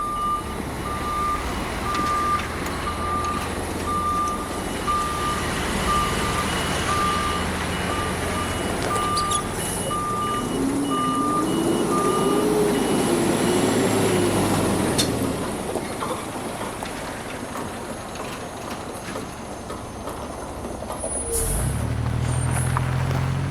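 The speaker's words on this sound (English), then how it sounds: "Border Patrol trucks arrive to escort us through the gate." Border Patrol trucks arriving near a gate along the Rio Grande, with a steady repeating reversing beep over a low engine rumble and road noise, an air brake hiss near the end.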